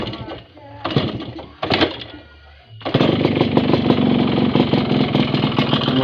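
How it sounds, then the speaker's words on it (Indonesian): A 1997 Yamaha RX King two-stroke motorcycle idles close by, its engine starting with short bursts and then settling into a steady, dense running hum that fills the rest of the clip. "Mesin lumayan halus"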